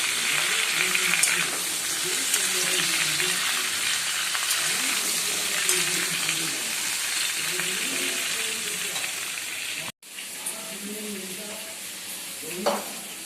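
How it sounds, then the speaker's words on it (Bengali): Bay leaf and panch phoron sizzle steadily in hot tempering oil, a continuous bright frying hiss with a brief clink near the end, while someone talks over it. "তেজপাতা, পাঁচফোড়ন দেওয়া হয়েছে ফোড়নে"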